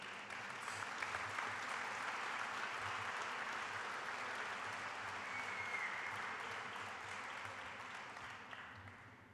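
Warm, sustained applause from a graduation ceremony audience after a student speaker, many hands clapping evenly for several seconds before easing off slightly at the end.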